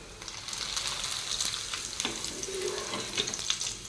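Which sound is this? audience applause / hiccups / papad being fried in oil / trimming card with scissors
papad being fried in oil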